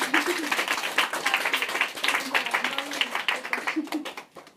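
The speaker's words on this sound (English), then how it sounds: "So big round of applause." Audience applause after a storytelling talk, a dense burst of clapping from a modest crowd that holds steady and then thins out toward the end, with a little talk mixed in.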